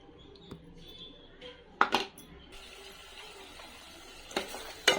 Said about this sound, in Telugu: ఇలా కలుపుకున్న పేస్ట్ని మగ్గించుకున్న టమాటాలలో వేసుకుందాం.